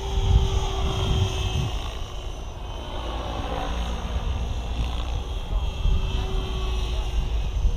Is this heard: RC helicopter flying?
yes